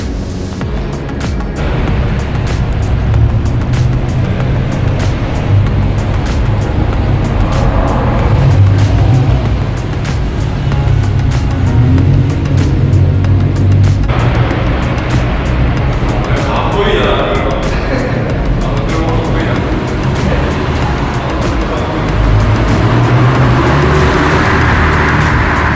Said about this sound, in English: And we got two more Skylines.